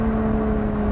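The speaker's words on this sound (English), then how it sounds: "And there you go with the downshift." Lotus Exige 410 engine dropping a gear, a loud steady close-up drone with a strong low tonal hum and constant roar, no talk.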